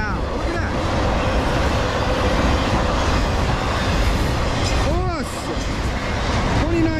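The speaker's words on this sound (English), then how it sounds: "Short train." A short train with foreign-road locomotives rumbles steadily past on a Conrail line, a continuous roar broken by a few high wheel squeals toward the end.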